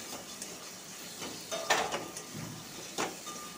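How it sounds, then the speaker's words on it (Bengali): Brinjal (eggplant) fries in a pan for a fish curry with taro, the oil crackling faintly while a spatula scrapes and knocks against the metal in a few sharper bursts. "বেগুনগুলো দিয়ে একটু ভালো করে ভেজে নেব।"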